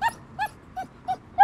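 A Samoyed out on a walk gives a string of high, whiny whimpers and yips, five short cries at a steady pace, each louder than the last, with a strong one at the end. The dog is close and heard alone, with no talk.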